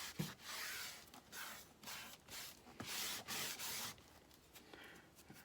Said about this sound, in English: And then burnish that down on there.